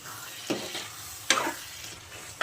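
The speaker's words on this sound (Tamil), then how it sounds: "நல்லா மிக்ஸ் பண்ணி விட்டுட்டு" Chilli chicken gravy being stirred in a pan, with a few distinct scraping strokes at irregular intervals over a soft sizzle, close and moderately loud, with no talking.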